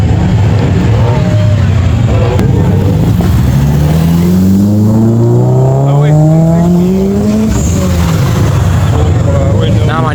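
Subaru car engine revving at a car meet, a loud, close rising-and-falling rev sweep over a constant roar of crowd and other engines.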